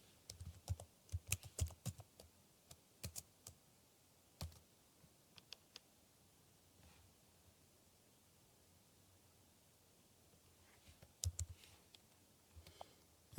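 Keys tap on a computer keyboard as a new password is entered, short bursts of quick clicks, then a long quiet pause, then another brief cluster of taps, close and faint.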